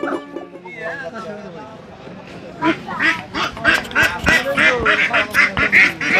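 Ducks quack repeatedly at Panchtikri village market in Ghatail, Tangail, loud and close, in a quick run of calls that builds toward the end, over the chatter of market voices.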